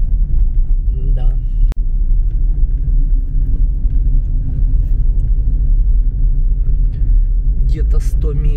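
A car drives along the road to Lake Tuzkol in Kazakhstan with steady low road rumble and engine noise inside the cabin, while someone talks over it throughout.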